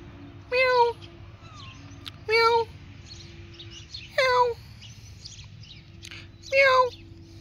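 Street cats in Cyprus, with four short, clear meows at close range spaced a second or two apart over a low steady background hum.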